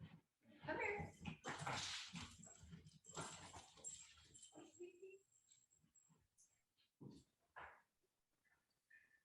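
A dog whimpering, yipping and making bow-wow noises close by, mixed with people talking and shuffling movement, the sounds loud early and then fainter and intermittent.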